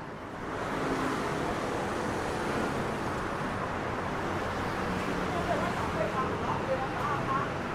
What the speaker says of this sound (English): Definitely a lot of scooter activity here in Kaohsiung.